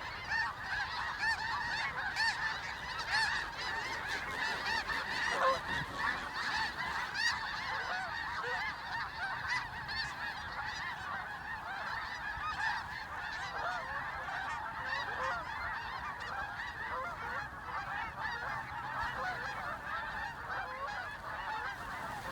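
A large flock of geese honks continuously, a dense overlapping chorus of calls that stays busy and fairly distant throughout.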